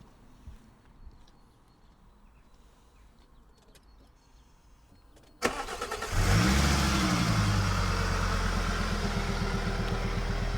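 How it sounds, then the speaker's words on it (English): A Lancia Delta 20-valve turbo engine fitted in a Fiat Coupe cranks and catches after a quiet stretch, then settles into a loud, steady, rumbling idle that runs to the end. "Right, I'll start the 20 valve turbo up."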